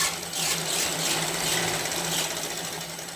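A sewing machine runs a single-thread overlock-style edge stitch, a continuous rapid mechanical whirring and clatter at moderate volume, close by and without speech.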